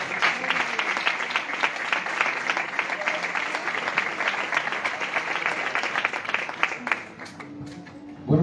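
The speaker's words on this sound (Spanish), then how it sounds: "Vamos a darle un aplauso fuerte" Loud, sustained applause from a church youth gathering, dense clapping close by that holds steady for about seven seconds before dropping away abruptly.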